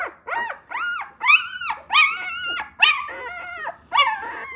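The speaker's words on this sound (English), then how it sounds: "So this is just sounds that puppies make." A young puppy whimpering and whining while being held upside down during handling, a series of about seven high, rising-and-falling cries with short gaps, close and clear, no talk.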